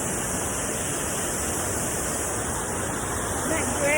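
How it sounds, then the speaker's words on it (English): Waterfalls roar in a steady, broadband wash of rushing water outdoors on a sunny day, close and continuous, with a faint chirp near the end. "there are these lovely waterfalls."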